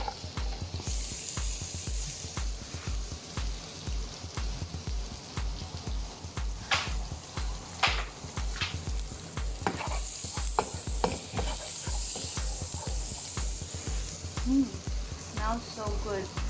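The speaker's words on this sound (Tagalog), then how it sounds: "let's put the butter. Let's add the garlic." Garlic sizzles in melted butter in a pan for shrimp pasta, a loud continuous frying hiss with repeated rhythmic stirring scrapes and clatter close by.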